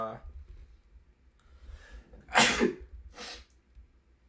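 A person sneezes twice in quick succession, the first burst loud and sharp, the second softer, after a stretch of quiet background noise.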